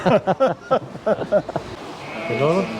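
At a New England merino ram field day, a sheep gives a wavering bleat near the end, following a stretch of people talking nearby.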